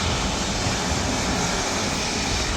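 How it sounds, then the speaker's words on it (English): Airbus A350 jet roaring at full thrust as it takes off down the runway at Manchester Airport, a steady, dense, loud wash of engine noise with no break, heard alone. "I'm going to watch it absolutely gun it down the runway"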